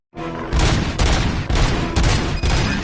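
Heavy automatic gunfire from the ED-209 robot in a RoboCop video game, loud rapid bursts of booming shots starting abruptly and pounding continuously in close, dense volleys.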